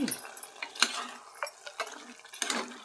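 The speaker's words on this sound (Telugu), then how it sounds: "కొబ్బరి జీడిపప్పు పేస్ట్ వేసేసి బాగా కలిపేసుకుంటే" A spoon stirs coconut cashew paste into a pot of mutton chana dal curry, giving scattered soft scraping and clinking taps at an uneven rhythm, close by, with no talk.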